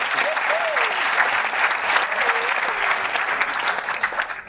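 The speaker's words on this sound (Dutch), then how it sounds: "Hartelijk applaus voor Merlijn Twaalfhoven." Warm, sustained applause fills a lecture hall as an audience welcomes a speaker, a dense, even wash of clapping with a few voices and cheers faintly mixed in.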